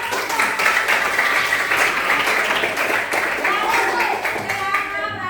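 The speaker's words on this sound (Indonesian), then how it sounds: "Oke, tepuk tangan." A classroom of students applauding during a teacher's lesson, loud close clapping that stays dense and steady for several seconds, with faint voices mixed in underneath.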